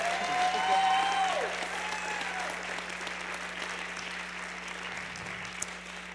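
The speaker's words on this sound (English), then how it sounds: "I want to give her another round of applause." An audience applauds at an academic presentation, a broad even patter of clapping that starts fuller and gradually thins, heard over a low steady hum with a brief tone near the start.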